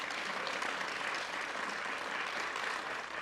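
An audience applauds the Schenectady Downtown Ambassadors, Grand Marshals of a holiday parade, at a press conference: steady, dense clapping from many hands at even volume throughout, with no voices over it.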